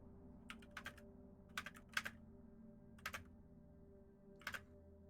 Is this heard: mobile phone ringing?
no